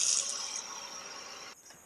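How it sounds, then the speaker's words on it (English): Straight tap water runs from a faucet into a sample container, a steady hiss of flow that cuts off abruptly near the end. "now I'm going to gather a sample of straight tap water"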